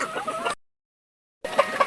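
Pet chickens that have just eaten coconut worms cluck in short nearby bursts on either side of a brief silent gap.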